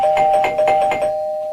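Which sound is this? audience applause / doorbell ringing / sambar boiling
doorbell ringing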